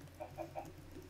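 Chickens in the video game Minecraft give three quick, soft clucks in a row, faint and close together, then fall quiet.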